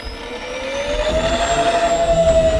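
An upgraded twin-EDF A-10 Thunderbolt II RC jet roars past in flight over snowy ground, its ducted fans whining loudly with a rising tone and a swelling, pulsing rush as it approaches.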